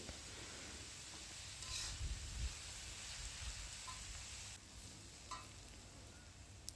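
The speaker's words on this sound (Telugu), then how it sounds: "ఉల్లిపాయల్లో కొద్దిగా ఉప్పు వేసుకుని వేయించేసుకుంటే తొందరగా వేగుతాయి" Onions sprinkled with salt fry in a pan for an egg and dry prawn curry, giving a soft, continuous sizzling hiss with a few faint scrapes of stirring, steady and close without any voices.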